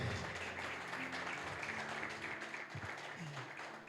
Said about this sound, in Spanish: ¿Por qué no le das a Dios un aplauso como corresponde?